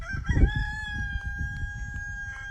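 Chickens calling nearby, with a loud drawn-out crow over low clucking and rustling noise.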